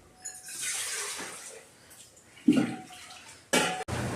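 Drinking water runs from a kitchen tap into a container in a home, a fluctuating gush with clattering handling sounds and a sharp break near the end.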